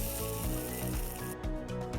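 Ginger, chilli and curry leaves sautéing in a pan make a loud, dense sizzle, with repeated low knocks and scrapes from stirring at a steady rhythm.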